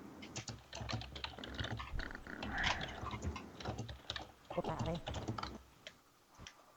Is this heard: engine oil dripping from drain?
no